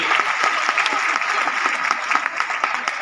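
An audience at a women's forum event claps continuously for a few seconds, a dense, loud, even patter of many hands.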